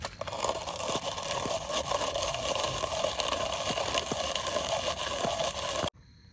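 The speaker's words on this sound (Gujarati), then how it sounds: "હવે કરીએ ગાંઠિયાનો ભૂકો કટરમાં" A kitchen cutter grinds gathiya into powder with a steady, loud whirring roar that runs without a break for about six seconds and then stops abruptly.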